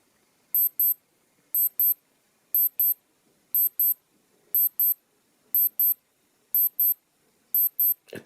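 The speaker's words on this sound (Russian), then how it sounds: "Это настолько тихий писк." Quiet, high-pitched double beeps from a smartwatch alarm, repeating about once a second in a steady pattern, with a brief rustle at the end.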